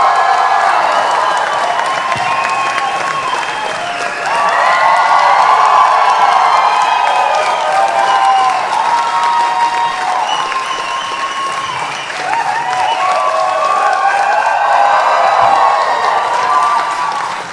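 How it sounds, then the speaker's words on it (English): An audience at a band's press conference in a Berlin theatre bursts into sustained applause with cheers and whoops, loud and dense throughout, swelling in waves. "I think my applause was bigger."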